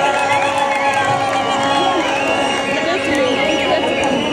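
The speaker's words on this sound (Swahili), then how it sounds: "Pigeni wa Murang'a makofi ya kikuja wa Murang'a." A large outdoor crowd at a Murang'a political rally for the deputy president roars and cheers in a continuous loud wall of voices, with shouts and whistles rising and falling throughout.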